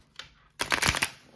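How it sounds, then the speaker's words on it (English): A deck of tarot cards is shuffled once, giving a brief faint flick and then a close, crisp riffle of cards lasting under a second. "I'll shuffle one good time."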